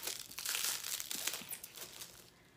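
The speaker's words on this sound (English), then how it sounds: "it takes forever to take off this plastic" Plastic wrapping crinkles and crackles close by as it is peeled off a stay-in-place machine mat, a burst of busy rustling that tapers off toward the end.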